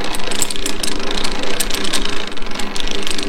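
A lathe chuck turned to tighten its jaws, a loud close run of rapid ratcheting mechanical clicks and grinding over a low steady hum, no talking.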